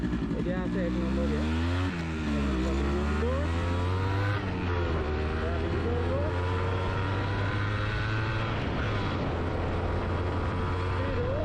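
Modified Yamaha RX100 motorcycle ridden at speed, its two-stroke engine loud and close, revving up through the gears in rising, falling sweeps, with a rider's voice talking over the engine noise.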